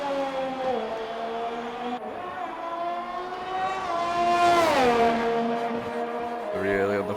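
Racing car engine held at full throttle on the final corner of an Italian Grand Prix sim race, a loud sustained whine rising in pitch near the end, with a commentator talking over it.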